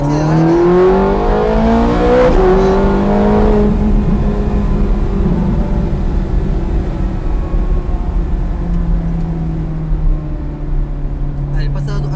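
A Ferrari F430 Scuderia pulls out of a hairpin, its engine rising loudly in pitch through the gears as it accelerates, heard close from inside the car with someone speaking over the roar.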